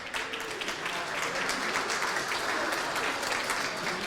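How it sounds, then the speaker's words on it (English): Audience at a student union election results announcement gives a sustained round of clapping, fairly soft and even, continuing throughout without pause. "Round of applause for Nathan, please."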